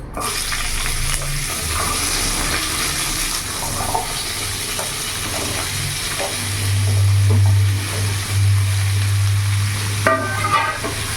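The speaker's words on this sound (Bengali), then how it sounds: "নাড়াচাড়া করে আমি ভালো করে কিছুক্ষণ এই সবজিগুলো বাদবাকি আমি ভেজে নেব।" Cut mixed vegetables frying in oil left from frying eggplant, with a loud, continuous close-up sizzle and hiss as they are stirred, spatula scrapes and knocks breaking through the steady crackle.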